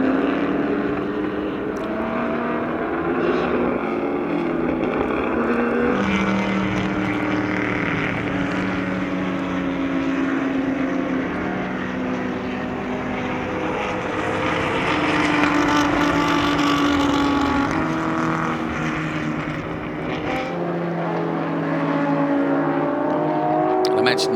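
A 1959 Ferrari 250 GT races in a production and GT group at the Sonoma Speed Festival, its engine a steady roar with shifting pitch as cars pass, heard under continuous commentary.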